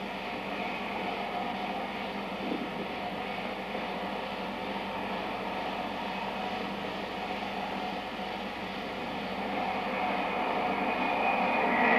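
Two Rolls-Royce Nene jet engines, mounted horizontally and opposed on the Flying Bedstead test rig, give a steady loud roaring whine that holds throughout and swells slightly near the end, with no voices.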